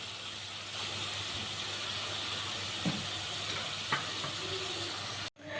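Masala spices frying in a pan, giving a soft, steady sizzle and hiss with a few brief clinks or scrapes, fairly quiet and continuous before cutting off abruptly near the end.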